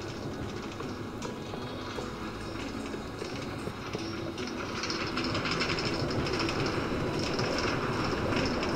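A New York A train rumbles along with a steady clatter of wheels on track, growing a bit louder partway through, with no talking.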